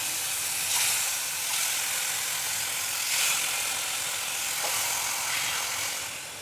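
Marinated hilsa fish fry in hot mustard oil in a pan, a steady loud broadband sizzle and hiss running throughout without pause.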